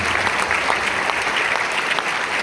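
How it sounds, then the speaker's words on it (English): An audience claps for four panelists at the close of a career talk, a bright, sustained round of applause at fairly close range with no speech on top. "How about a round of applause for Dana, Taylor, Jomira, and Jason?"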